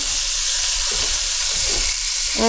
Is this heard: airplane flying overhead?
no